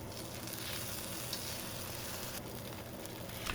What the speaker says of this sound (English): This is some beef tallow, basically, that we're cooking up the scallions in.